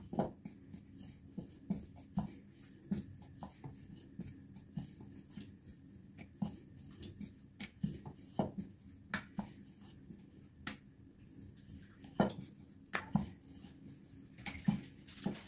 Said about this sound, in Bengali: এইভাবে একটু মাঝারি রুটি আকারে প্রথমে কয়েকটা রুটিকে বেলে নেব।